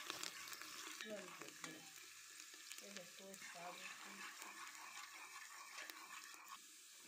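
Thinly sliced onions frying in hot oil for a Kashmiri mounji haakh, a steady soft sizzle with intermittent stirring clinks and scrapes, close but fairly quiet.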